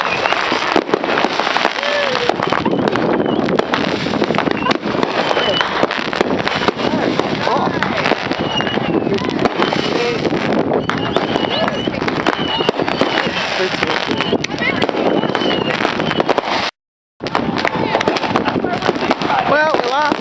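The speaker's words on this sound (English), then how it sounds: "Fireworks shot over here and went off right in our camp, and Kenzie got hit pretty hard." Fourth of July fireworks exploding close by in a camp, a continuous loud barrage of cracks and bangs with wind buffeting the microphone and people talking throughout, briefly cut out near the end.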